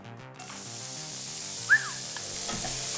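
Spinach sizzles steadily in a hot frying pan, a close, even hiss with a brief scrape partway through.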